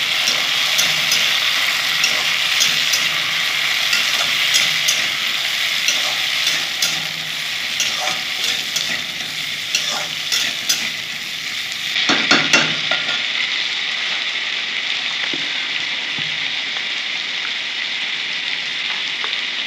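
Cut sweet pumpkin pieces fry in a pan with a loud, dense hiss of oil, stirring clatter and scraping around the midpoint, after which the sizzle continues slightly softer, close and without voices.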